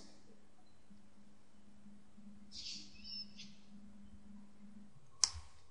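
A computer mouse gives a single sharp click near the end during a SolidWorks modelling session, preceded by quiet room tone and a couple of faint hissy sounds.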